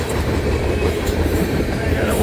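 A BNSF or Union Pacific freight train passes close by with a steady, dense rumble and roar, loud and continuous with no voices.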